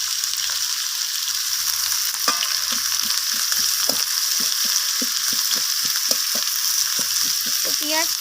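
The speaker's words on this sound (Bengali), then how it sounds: "পেঁয়াজটাকে একটু খুঁটি দিয়ে একটু নাড়াচাড়া করে আমি পেঁয়াজটাকে ভেজে নিচ্ছি" Onions fry in hot oil under a constant bright sizzle. A utensil stirs them with repeated soft scraping strokes in an uneven rhythm, close up, and no one speaks.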